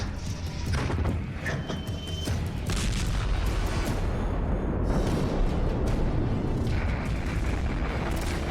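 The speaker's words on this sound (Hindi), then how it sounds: "मिसाइल फायर हुई।" A missile launch heard as a loud, sustained roaring rumble with dense crackling and booming bursts that fill the whole stretch, heavy and continuous.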